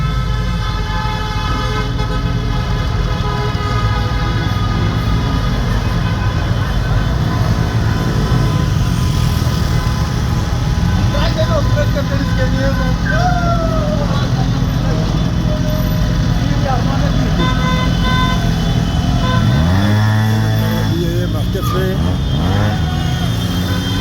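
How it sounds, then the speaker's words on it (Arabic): Police cars moving along a street in The Hague among Moroccan football fans out after a match, with steady traffic rumble, several car horn toots and a busy crowd, and someone speaking throughout. "هاي سيارات الشرطة."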